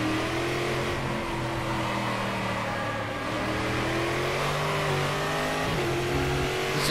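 A Brazilian V8 stock car engine in the racing game Stock Car Extreme, lapping Interlagos, holds a loud, steady revving drone that rises and falls slightly with throttle changes throughout, with no talk.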